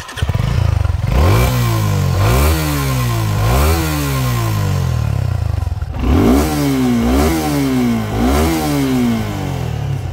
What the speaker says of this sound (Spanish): El sonido de la moto creo que no es muy fuerte